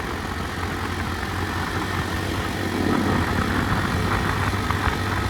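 CP110 motorcycle engine running steadily at close range, a low rumbling drone that swells slightly partway through, with no talking.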